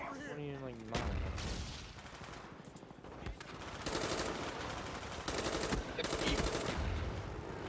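Rapid automatic gunfire bursts from Call of Duty: Black Ops on Xbox One, several loud sustained volleys separated by brief pauses, with in-game explosions and muffled voices mixed underneath.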